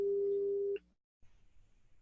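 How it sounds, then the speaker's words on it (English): A single steady electronic telephone ring tone sounds for under a second, then cuts off, followed by quiet low rustling. "So the phone's ringing right now."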